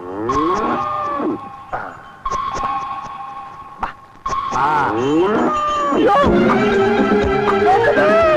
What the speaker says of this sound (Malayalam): പശു